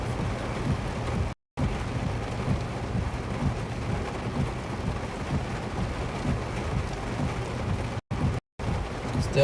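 Heavy rain pours continuously during a severe thunderstorm in Minnesota, a dense, loud wash of noise with low rumbling thunder beneath it, broken by a few short dropouts.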